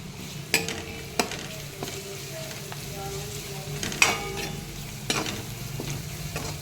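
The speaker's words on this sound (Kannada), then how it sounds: "ಜಿಂಜರ್ ಗಾರ್ಲಿಕ್ ಪೇಸ್ಟು ಫ್ರೈ ಆಗಿದೆ" Ginger garlic paste frying in a pan for a peas curry, a soft steady sizzle with a few sharp spoon scrapes and knocks against the pan as it is stirred.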